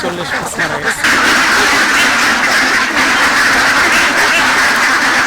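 Ducks quack loudly and continuously from a flock of about 500 on the pond of an integrated duck-and-fish farm. A brief voice comes at the start before the dense chorus takes over.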